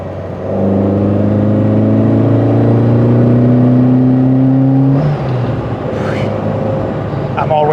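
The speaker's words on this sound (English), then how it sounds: "the sound of a twin Solex" Citroën AX 1300 Sport engine breathing through twin Solex carburettors, revving steadily and loud for about five seconds, then dropping back to a rougher idle with faint background noise.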